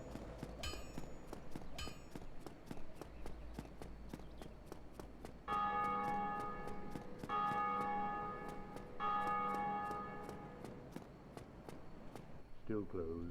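In Dark Souls Remastered, a church bell tolls three times in even, resonant strokes over steady game ambience and footsteps, with a brief clatter at the end.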